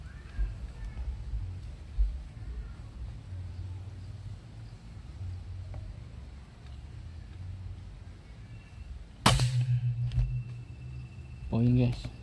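An air rifle fitted with a Moro HFT barrel fires at a pin 22 m away, one sharp crack followed by a second short impact-like burst, set against steady outdoor ambience with insects and low rumble.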